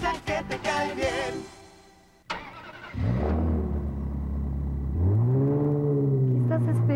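Car engine starting in a radio advert: a starter cranks, then the engine catches and settles into a loud, steady idle with a rising rev, with voices talking over it.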